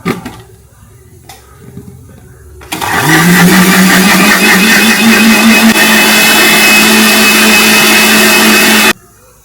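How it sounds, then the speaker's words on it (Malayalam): A mixer grinder whirs up to speed and blends spice paste in a mixie jar, a loud steady motor whine with rattling that runs for several seconds, then stops abruptly, after a few faint knocks as the jar is set in place. "നമുക്ക് മിക്സിയിൽ വയ്ക്കാം."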